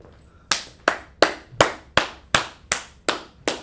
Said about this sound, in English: Put them hand claps in there.